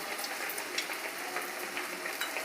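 Bread pakoda dipped in gram-flour batter frying in medium-hot oil, giving a steady, close crackling sizzle with small bubbling pops throughout and no voices.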